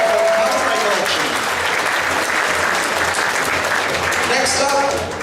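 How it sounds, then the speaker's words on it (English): Crowd at a fall anime convention costume contest claps for a cosplay contestant, a loud continuous burst of applause with a few faint voices mixed in. "Big round of applause for her cosplay collection"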